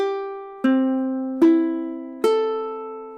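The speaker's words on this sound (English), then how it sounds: "we want to make sure in the end that our ukulele sounds like this." Four ukulele strings plucked one after another, each note clear and sustained, ringing alone at an even, unhurried pace.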